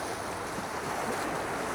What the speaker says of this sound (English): got the waves crashing in